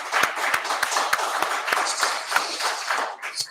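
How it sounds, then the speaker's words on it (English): Applause for three panelists at a university citizens' conference, with a few distinct, regular claps sounding close over a softer spread of clapping that tapers off. "let's give another applause to our three panelists,"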